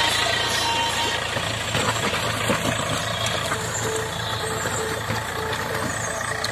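A tractor engine runs steadily while forming watermelon beds in a field, a continuous loud diesel drone with rattling and clanking over it, close by and without pause.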